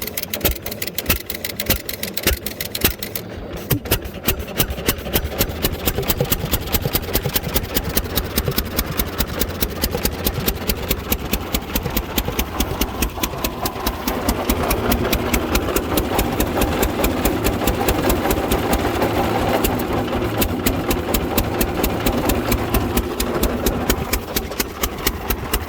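A 1924 John Deere D tractor engine running too rich thumps along in a steady, loud, rapid idle that stays continuous and close for the whole stretch, with no talking over it.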